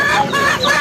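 A rooster for sale at a crowded rural animal market in Belbari, Nepal, calling loudly and close by in one continuous, raspy burst.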